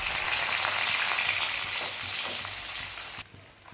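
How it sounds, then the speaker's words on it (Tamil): Anchovies frying in hot oil give a loud, dense, continuous sizzle close up, which drops off sharply near the end. "அடுத்ததாக நெத்திலி பிடி பொரிச்சுக்கலாம்."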